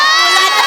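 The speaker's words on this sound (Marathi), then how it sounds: "Standing ovation." An audience rises for a standing ovation at a Marathi comedy show, with a continuous dense wash of applause and cheering, loud and close, holding steady through the whole brief moment.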